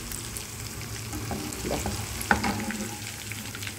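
Chicken necks fry in hot oil for a Thrissur-style chicken snack, a steady close sizzle with brief crackling bursts and one sharp pop, with no talking.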